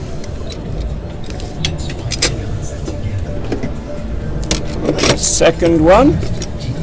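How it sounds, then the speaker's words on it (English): Wheelchair rear restraints are fastened inside a vehicle, with metallic clicks, buckle rattles and strap sounds at close range, under a voice and a steady car-interior hum. "Into the vehicle, we fasten the rear restraints."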